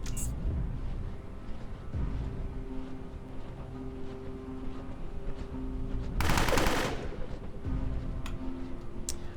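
Gunfire in the video game Underrail, a bright burst of rapid shots around the middle of the clip over a steady low game soundscape with a few faint clicks.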